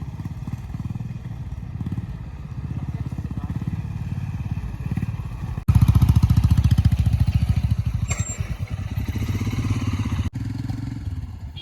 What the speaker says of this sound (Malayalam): ഇവിടെ നിന്ന് ഇഷ്ടംപോലെ ബൈക്ക് റൈഡേഴ്സ് ഉണ്ട് കേട്ടോ